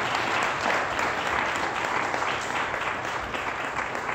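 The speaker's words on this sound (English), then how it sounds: "let's give our praise and worship team a round of applause" Church congregation applauds the praise and worship team, a steady, dense wash of clapping from a large room that holds evenly for the whole stretch with no voices on top.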